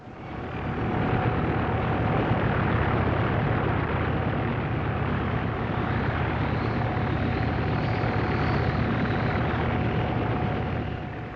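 A helicopter flies over farmland in a severe winter, its loud continuous rotor and engine roar holding steady for about eleven seconds with no voices.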